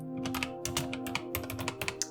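Keys clatter on a computer keyboard during a game, with fast irregular keystrokes over a faint steady hum in the background.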